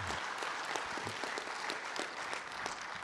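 A round of applause from a conference audience during a keynote address, brisk many-handed clapping at moderate level, steady throughout with no one speaking over it.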